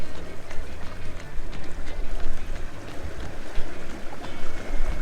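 Steady rushing water and wind noise sweep past the hull of a moving Windrider 17 sailboat, loud and continuous, with splashes rising and falling throughout.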